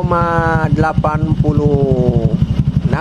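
A 2019 Honda Beat scooter engine runs at raised rpm with a steady, rapid low putter close by, while someone talks over it throughout.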